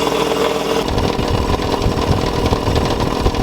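An Ingersoll Rand SS3L3 air compressor, freshly rebuilt, switches on and runs loud and close with a rough, rapid pulsing chug that settles into a steady mechanical drone.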